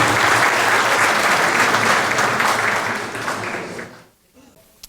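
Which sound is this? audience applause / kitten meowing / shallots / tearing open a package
audience applause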